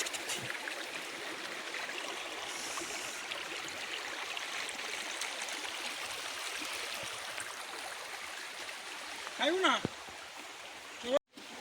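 Steady rushing water from a forest stream and waterfall at Ashokjhar fills the scene as a constant, close wash of gurgling flow, with a brief voice rising near the end.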